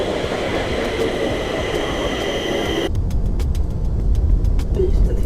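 A Stockholm metro train rides along with a loud, steady low rumble and whining hum, the tone shifting partway through as wheels clatter on the rails; no one speaks.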